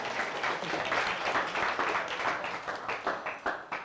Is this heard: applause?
yes